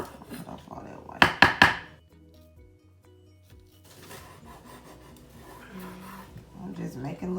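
A knife slices a block of cream cheese in a home kitchen for a seafood casserole, making a quick cluster of close scraping cuts, then softer scrapes under talking.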